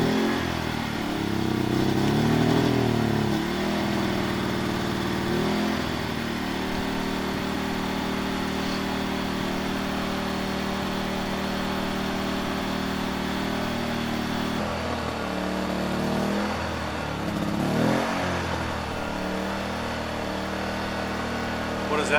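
A portable gasoline generator engine with its choke engaged runs steadily at a field day radio event, a loud continuous mid-pitched drone with small shifts in tone as the choke is adjusted, people talking faintly over it.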